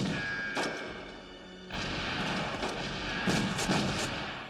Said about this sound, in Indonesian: Melihat itu, polisi pun langsung membredel tembakan ke arah Michael.